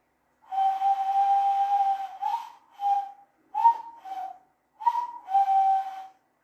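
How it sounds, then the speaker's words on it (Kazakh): Someone blows into the hollow between cupped thumbs, producing a clear, piping whistle. A long tone is followed by several shorter blasts in an uneven rhythm, loud and close, with no talking. "бәрімізде осы ысқыру әдісін үйреніп аламыз"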